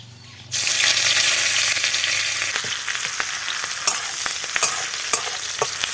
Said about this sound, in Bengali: ফোড়ন এইগুলো পরপর আমি দিয়ে দিচ্ছি